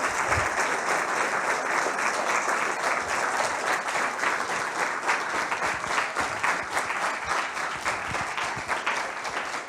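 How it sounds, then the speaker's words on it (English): Sustained, loud applause from the audience at a youth gathering, thanking the speakers, with dense, continuous clapping lasting nearly ten seconds. "And we can give them applause."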